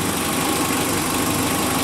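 Renault Twingo engine idling while warming up, a steady continuous mechanical hum and rattle at close range with no variation and no voices.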